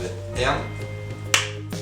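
A single sharp hand clap, made to sync video with audio, snaps out once partway through over a low steady hum and faint room noise.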